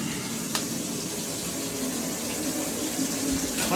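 Water running steadily like a tap, a close hissing rush that continues without break, a faint knock heard briefly partway through.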